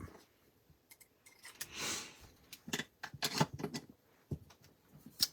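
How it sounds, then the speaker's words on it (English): Small snips trim a paper craft die cut with a series of close, crisp snipping clicks and light paper rustling, including one longer swishing rustle, with no talking. "I'm just going to take my snips and trim off a little bit."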